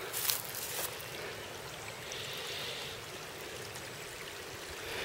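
A low-running river near Ruswarp in North Yorkshire flows over stones, a steady, even rushing wash that carries on unbroken from start to end without talking.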